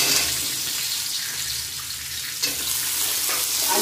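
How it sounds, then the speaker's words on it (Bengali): Potatoes fry in a pan over browned garlic and onion, a steady close sizzle with a watery hiss that swells slightly near the end, no talk. "আলুগুলো এর মধ্যে একটু ভেজে নেব।"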